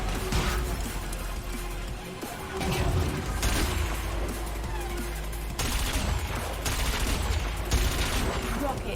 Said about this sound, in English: The way the cannon bullets bounce around is pretty cool.